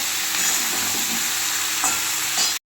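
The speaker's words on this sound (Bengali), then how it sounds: "ভালো করে এটা নেড়ে দেবো" Chopped papaya seasoned with salt and turmeric is stirred in a hot pan, giving a close, continuous sizzle with scraping spoon strokes for a couple of seconds and no voices.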